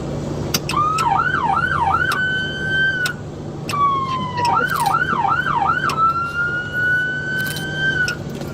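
A police car siren blares up close, cycling through a rising-and-falling wail and then a rapid yelp, with the sequence repeating twice over steady traffic noise.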